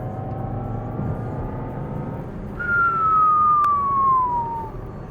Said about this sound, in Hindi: ये इलेक्ट्रिक गाड़ी की ही आवाज़ आती है, इसमें कोई फेक पेट्रोल साउंड्स नहीं है